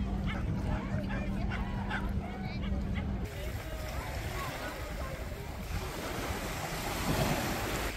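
Sea waves washing onto the shore at North Shields on a summer day, a steady broad roar of surf mixed with wind noise on the microphone, continuous and fairly distant.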